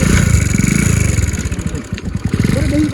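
A motor scooter engine chugs loudly and steadily close by, with a rhythmic putter and faint clatter, the pitch shifting slightly as it revs.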